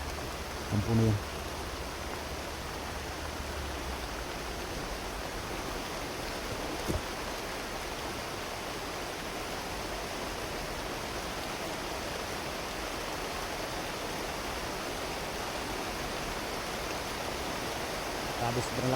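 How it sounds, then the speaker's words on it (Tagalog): Heavy rain in a video game, a steady broadband hiss that stays loud and unbroken for the whole stretch, with a brief thud near the start and another near the middle. "sobrang lakas talaga ng ulan"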